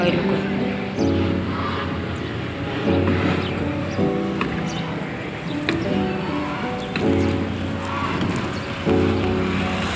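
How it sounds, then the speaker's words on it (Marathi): A plane passes overhead on its approach to the airport near Panvel, a low droning roar that swells and fades under steady outdoor ambience, with people talking nearby. "हे बघा वरचं विमान चाललंय आपल्याच विमानतळावर"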